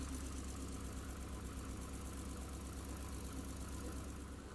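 A car engine idles steadily right after a radiator replacement, a continuous close rumble with an even, unchanging drone and no voices over it.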